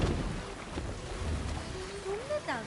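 Sailing ship on open sea in the video game Assassin's Creed Valhalla: wind and waves wash steadily around the hull, with faint creaks and tonal calls rising near the end, and a voice speaking over it.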